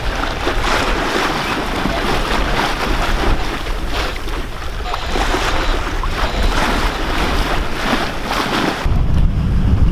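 Strong wind roars steadily across the microphone aboard a Dana 24 sailboat under sail, mixed with the rush of water along the hull, loud and continuous with a heavier gust near the end.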